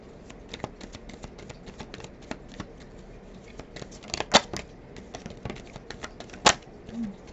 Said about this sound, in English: I just kept shuffling.